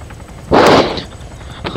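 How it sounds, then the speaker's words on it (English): A loud, close burst of gunfire erupts in the Arma 3 military shooter and rings out for a moment. A second, quieter shot or short volley follows about a second later. "we're getting shot at"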